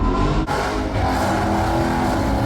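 Drag racing car holding a line-lock burnout at the Holley MoParty 1320 Shootout strip, a loud, steady, high-revving engine roar with dense low rumble that barely breaks, a brief dip near the start before the sustained drone continues.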